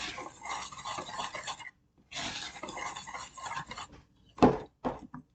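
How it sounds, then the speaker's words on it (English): Dry muffin ingredients with ground cinnamon being whisked in a bowl, bursts of scraping and rattling against the sides separated by short pauses, ending with a few sharp clinks. "And now we're going to whisk this all together."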